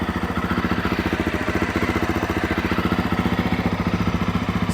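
An engine runs steadily at idle during a Trail Tech Vapor gauge install, giving a close, loud, evenly pulsing putter with a regular rapid beat and light mechanical clatter and no talking.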